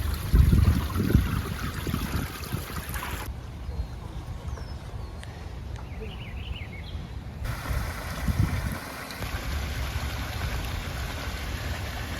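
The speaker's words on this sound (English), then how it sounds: "Everybody needs a water feature in their garden." Water trickling in a botanic garden water feature, a steady, close burble and splash that continues throughout, with a quieter stretch in the middle where birdsong comes through and a brief high insect-like whine in the background.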